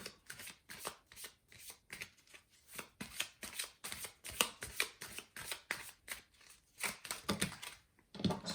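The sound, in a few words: tarot card being drawn from deck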